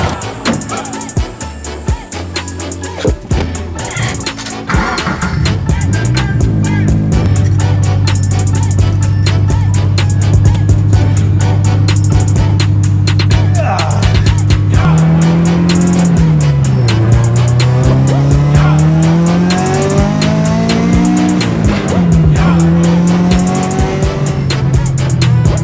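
A turbocharged FRS sports car drives hard, its engine loud and close with rising and falling revs through gear changes, and brief tire squeal mixed in.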